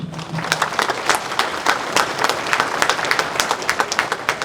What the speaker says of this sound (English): I want to give them again a round of applause.